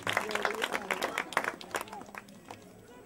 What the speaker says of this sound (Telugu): చప్పట్లు కొడుతూ వారిని అభినందిద్దాం.